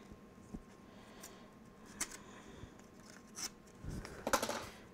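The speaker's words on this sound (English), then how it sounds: "Let me tear a little chunk right here." Paper is torn by hand, making soft, faint ripping and scratching sounds in a quiet room. A few brief rasps come first, then a slightly louder tear near the end.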